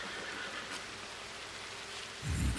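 Rain falls in Red Dead Redemption 2, a soft steady hiss that swells louder near the end.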